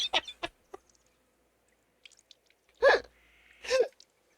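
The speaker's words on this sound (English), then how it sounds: "Yes, those birds do sound lovely." Short clucking bird calls from a video game, a few soft clicks and chirps early, then two louder clucking bursts near the end, alone with no talk.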